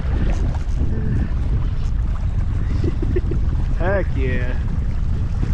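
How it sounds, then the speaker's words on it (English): Strong wind blowing over a river on a cold fall day while fishing from a boat, a loud constant rumble buffeting the microphone, with a voice briefly speaking over it. "Ooh, that wind. Oh my goodness, that wind."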